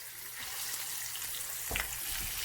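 Salmon cooks in a pan with a continuous close sizzle and faint crackle, plus one brief low knock or scrape of the pan partway through.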